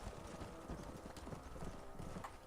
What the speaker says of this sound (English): the horse that ran off is making its way back over